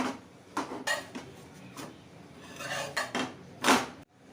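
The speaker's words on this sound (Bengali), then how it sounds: "তারপরে তাওয়াটা বসাচ্ছি, তারপরে তাওয়াতে রুটিটা দিচ্ছি।" A tawa griddle set down on a gas stove and a roti placed on it for stuffed sattu paratha, heard as a few scattered metallic clanks and soft scrapes in a quiet kitchen.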